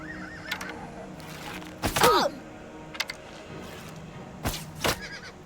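A horse in the video game Oblivion Remaster gives a loud, shrill whinny, with lighter snorts and knocks scattered before and after it.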